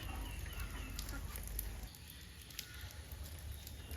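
A hen clucks faintly in short scattered calls beneath constant rain noise in a village, with a few brief sharp sounds rising above the steady background.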